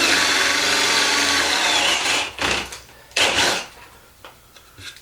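Milwaukee M18 Fuel 2603 cordless drill-driver on fast speed bores a 1.5-inch bit into wood, a loud steady whir that breaks into bursts of cutting and chip noise, then stops and restarts briefly.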